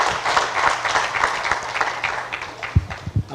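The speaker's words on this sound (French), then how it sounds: "un grand applaudissement" Applause at an award ceremony for an innovation competition, a brief burst of crowd clapping that fades out, with a few louder separate claps near the end.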